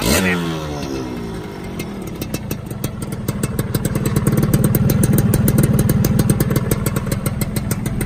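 A Suzuki Xipo 2000 motorcycle engine starts with a stuttering crank, then settles into a steady, rapid chugging idle with a mechanical clatter, close and fairly loud.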